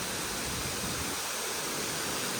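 Water spills down the tiered drops of Bangthang waterfall as a steady, close, full-bodied rush of broadband noise with no voices over it.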